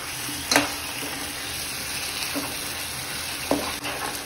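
Taro pieces go into a pan of boiling spiced yogurt gravy, giving a soft, steady bubbling sizzle with a couple of sharp clinks of a utensil against the pan.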